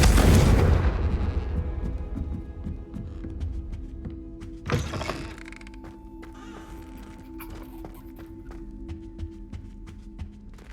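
The Confringo spell in the video game Hogwarts Legacy goes off as a loud, close explosive boom with a long rumbling decay, followed by a second softer thud and lingering magical hum and scattered clinks.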